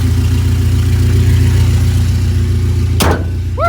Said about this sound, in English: He says he just put that muffler or that exhaust header on